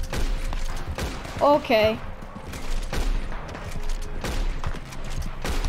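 Rapid gunfire from the player's weapon in a shooter video game, a string of sharp shots and bursts spread across the clip, with a brief spoken word in the middle.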